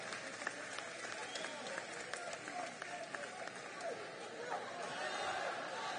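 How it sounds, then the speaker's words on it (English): Audience applause at a Hawaiian hula hō'ike recital, broad steady clapping of many hands with a few cheers and chatter mixed in, moderately distant and continuous throughout. "Round of applause to them."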